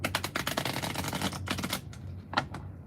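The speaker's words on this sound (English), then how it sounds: "Let me shuffle the cards right quick." Affirmation cards are shuffled in quick, rapid riffling bursts of sharp papery clicks, close to the microphone, pausing briefly before a few more flicks.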